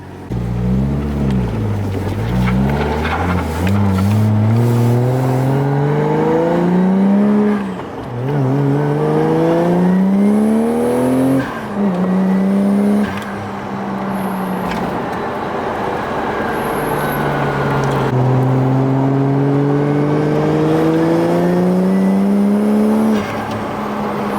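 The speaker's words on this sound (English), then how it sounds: "So let's go for a drive." A car being driven, its engine droning steadily and rising and falling in pitch as it works up through the gears, with a short lull partway through; continuous and close, with no talking.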